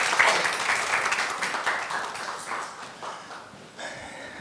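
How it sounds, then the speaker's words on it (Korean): Audience applause welcoming an astronomy lecturer to the stage, a dense patter of many hands that starts loud and gradually tapers over a few seconds, with a brief swell near the end. "박수 부탁드리겠습니다"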